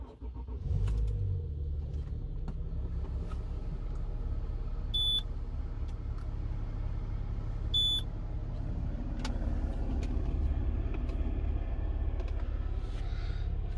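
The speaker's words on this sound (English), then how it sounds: "So let's start with a cold start." Cold start of a Citroën C6 car engine on a hot day: the starter cranks and the engine catches, then settles into a steady, close idle, with two short electronic beeps from the dash.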